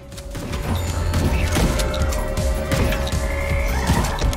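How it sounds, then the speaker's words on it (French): Frogs croak in a dense, continuous chorus of rapid rasping calls in the sci-fi co-op video game From Space, layered with other loud game sounds and occasional thuds, with no talking. "Oh, les grenouilles."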